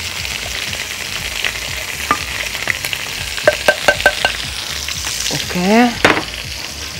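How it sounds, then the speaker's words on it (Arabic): Rice frying in butter with salt and pepper, a steady close sizzle with stirring scrapes and clinks across the middle, and a brief spoken word near the start. "انا حطيت زبده وهبتدي احط الرز بتاعي، ياخد تحميره كده سريعه"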